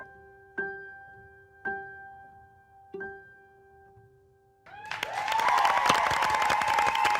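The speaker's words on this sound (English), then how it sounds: "Specifically that outro from Maddie gets a high clap" Three clear tonal chimes ring out and decay, then a crowd bursts into applause and cheering for Maddie's outro at a dance performance, a loud sustained roar of clapping and shouts.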